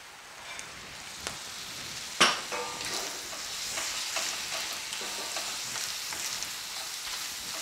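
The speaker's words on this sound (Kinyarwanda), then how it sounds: "Karanga ibirungo noneho." Spices and ground meat sizzle steadily in a hot pan, a continuous close crackle broken by scraping spoon strokes as the mixture is stirred, with no voices.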